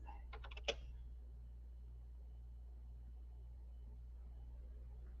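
Brief quick run of computer keyboard keystrokes near the start, faint and close, then only a steady low electrical hum for the rest.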